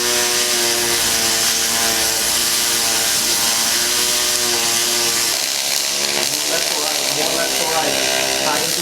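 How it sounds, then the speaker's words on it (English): Welding on a jet boat, a continuous loud buzzing electric hum with shifting tonal pitch, close and steady throughout, pitch changing partway as the weld fills a gap. "James and Cleetus are welding this all up themselves"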